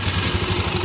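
A Yamaha Mio MX125 scooter engine, just repaired for lost compression, runs after starting with a steady, moderately loud idle pulsing in quick even beats over less than a second.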